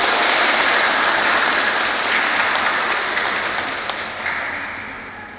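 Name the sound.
applause at a wedding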